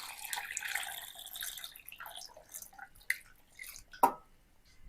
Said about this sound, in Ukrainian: Тепер вливаю воду холодну до каструлі.